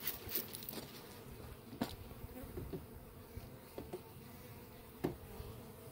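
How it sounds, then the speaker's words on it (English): Honey bees buzz steadily during a package installation outdoors, a dense continuous drone with a few sharper knocks and taps rising over it. "we're simply going to shake the bees in"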